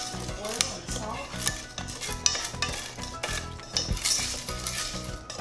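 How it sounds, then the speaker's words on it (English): Popcorn kernels are stirred with oil and salt in a pot, producing steady scraping and clinking of a utensil against metal in a rhythmic pattern, close and moderately loud, with no voices. "Mixing the kernels together, and the oil and the salt."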